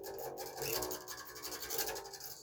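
Something scrapes against a bass guitar as it is played, giving a quiet, steady rasping and rubbing that pulses with the picking.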